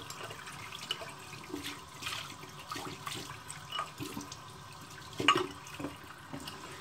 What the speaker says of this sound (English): Let it sit for a moment while I rinse out my bowl and my brush.